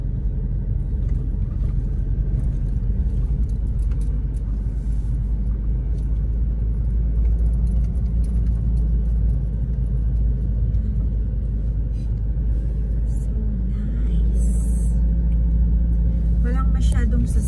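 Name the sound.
road traffic, cars and trucks passing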